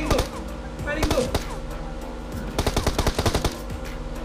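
Gunfire in the mobile battle-royale game BGMI, with sharp single shots and rapid automatic bursts, loudest in a quick volley near the end, over steady game background noise.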